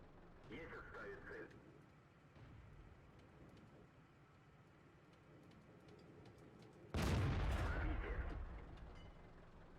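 A tank gun fires in World of Tanks on the Live Oaks map, one sudden loud boom late in the clip that decays into a lingering rumble, after a quiet stretch with faint talk early on.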